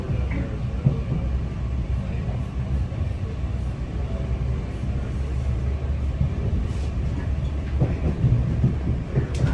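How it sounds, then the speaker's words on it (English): Onboard a train travelling in Northern Ireland toward Coleraine, a continuous low rumbling roar of wheels and carriage with occasional rattles and clunks, steady throughout with no talking. "so here I am on the train"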